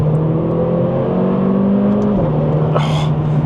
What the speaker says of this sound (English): it's just those gear shifts, that crack on the upshift